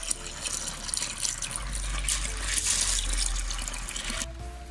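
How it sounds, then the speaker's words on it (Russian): Clean water pours steadily into a pot of dry corn being washed as fishing bait, a close, continuous splashing gush that settles near the end. "наливаем чистую воду"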